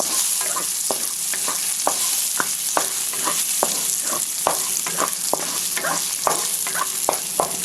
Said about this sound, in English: I'm going to cook my carrots first because that takes longer to cook.